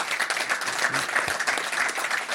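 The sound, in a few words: audience applause for sailor Anthony Marchand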